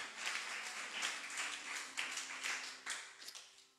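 Church congregation clapping in bursts, a fairly close wash of many hands rising and falling in waves, with a faint steady tone humming underneath and no speech.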